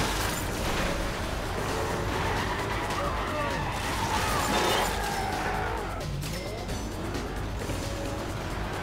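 A car in Carmageddon Reincarnation is hit by a mine, set in a dense, steady roar of engines, crunching impacts and skidding, with a slight swell of noise midway.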